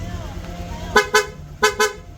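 Honda Click V3 scooter horn sounding in rapid mode, four quick sharp honks in two pairs over a background murmur of talk and ambient noise.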